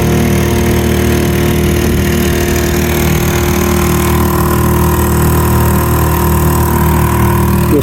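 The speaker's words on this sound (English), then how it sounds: "Just some wally with an outboard basically spiraling this island." A steady mid-pitched boat outboard motor drones loudly and continuously throughout, circling an island at Tin Can Bay, with a slight rough, wavering quality and no voices.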